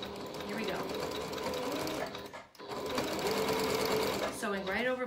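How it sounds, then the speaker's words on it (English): A sewing machine stitches straight over an earlier line of stitching, running steadily for most of the stretch with a brief pause near the middle, with background music playing throughout. "Sewing right over my first line of stitching."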